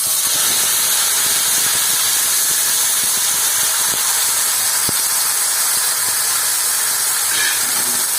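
Loud, continuous hissing sizzle of a wet spice paste for Bengali shukto hitting hot oil, close up, with faint clicks and scrapes underneath and no speech.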